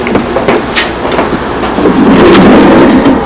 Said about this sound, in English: But as you can see, it's rather rainy today.